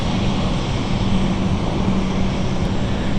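A British Airways Embraer airliner in the 700th livery rolls along a taxiway at London City, its jet engines a loud, steady, broadband roar with no talk.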